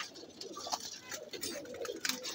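Pigeons coo steadily and close up in a loft of pet breeds such as 7 Star, a few low throaty calls overlapping one another without talk.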